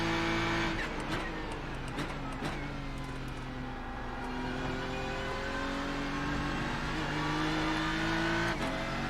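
A GT race car in iRacing hustles through the final corners at Road Atlanta. The loud engine drone rises and falls with throttle and gear changes, and brief crackles come on downshifts into the bends.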